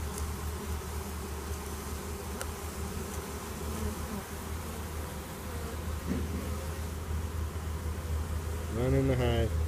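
A swarm of bees buzzes steadily around a hive, a dense continuous drone throughout with a person's voice briefly heard near the end.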